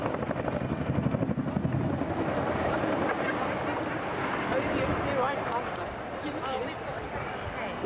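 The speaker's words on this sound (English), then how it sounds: "The Chinook, real workhorse for the RAF" An RAF Chinook helicopter flying an air display at Bournemouth, its rotors giving a loud, steady, heavy thudding roar that fills the whole clip, with a faint commentary voice underneath.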